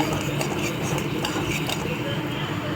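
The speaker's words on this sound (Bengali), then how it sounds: "এটা ভালো করে আমি কষিয়ে নেব।" A spice paste of ginger-garlic paste, Kashmiri chilli powder and tomato paste is stirred and fried in a pan for dal makhani, with continuous close scraping from the stirring over a faint sizzle and occasional clinks of the utensil against the pan.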